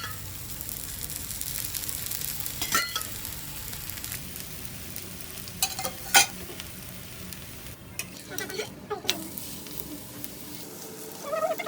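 Thalipeeth flatbread fries in oil in a pan, giving a continuous sizzle and crackle with a few louder spatula scrapes and clatters.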